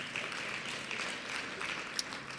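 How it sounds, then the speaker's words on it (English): Workshop audience at a national special economic zone strategy event giving a round of applause, a moderate, continuous patter of clapping from a room of people with no talking over it. "big round of applause."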